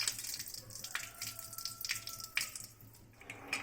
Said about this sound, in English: I'll wash this rice for 3 times.